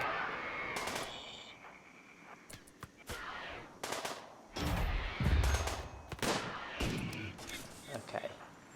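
Colonists open fire together in RimWorld, a burst of game gunshots with sharp cracks and heavier thumps clustered around the middle, loud and close, while a voice talks intermittently over the action.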